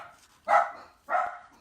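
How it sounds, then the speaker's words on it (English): Two sharp, close dog barks ring out about half a second apart, each short and loud against near silence. "There go my dogs."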